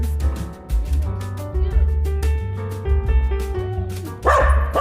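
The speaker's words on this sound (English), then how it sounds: "You got a loud bark." A pet dog at home lets out loud barks during a stretch of tonal background sound, with the yaps fairly close and overlapping the steady harmonic backdrop.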